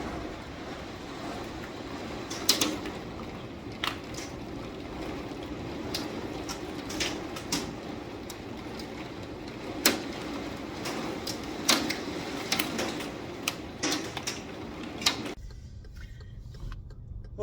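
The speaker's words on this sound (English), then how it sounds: "Oh wow, we got hail hitting the sliding glass door." Hail hits a sliding glass door with sharp, scattered ticks and taps at irregular intervals over a low steady background, some impacts louder and closer, before the sound stops abruptly near the end.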